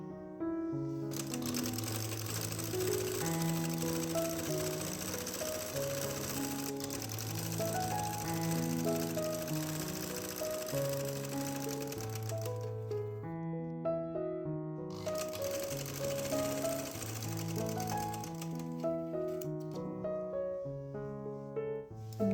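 A sewing machine stitches pintucks on a kurti sleeve, running in a steady, fast mechanical whir that continues through two long passes with a short pause between, fairly quiet and without talk.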